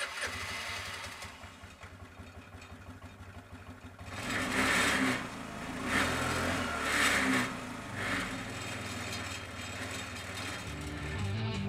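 A 2005 Vespa ET4 150 scooter, with a 150cc single-cylinder engine and CVT transmission, idles steadily up close, then revs up several times in rising and falling surges before settling back to a loud idle.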